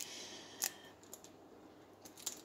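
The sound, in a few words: cutting off end pieces while making epoxy resin keyrings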